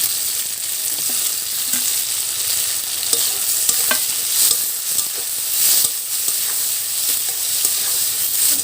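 Spices and tomato fry in a pan for a Banaras-style tomato chaat, a loud continuous sizzle punctuated by frequent rhythmic stirring scrapes and clicks of the spoon against the pan, with no talking.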